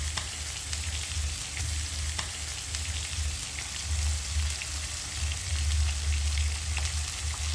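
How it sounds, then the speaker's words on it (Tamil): Leeks, carrot and cabbage sautéing in a pan for string hopper kottu, giving a steady, close frying sizzle throughout with no one talking. "இனி இது எல்லாத்தையும் வடிவாக வதக்குவோம்."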